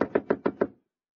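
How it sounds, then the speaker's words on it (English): Five evenly spaced knocks on a door in an old radio comedy, sharp and close, in a quick steady rhythm before silence. "Now, I knock on your door."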